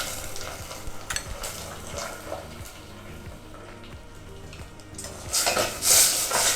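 A spoon stirs sugar into sweet sticky rice in a pot, scraping and clinking against the metal at close range, with soft sticky stirring sounds and a louder scrape near the end, no voices.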